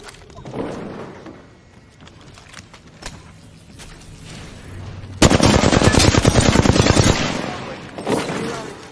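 Apex Legends gunfire, with scattered shots and thuds at first, then a loud, close, rapid automatic burst lasting about two seconds before tapering off.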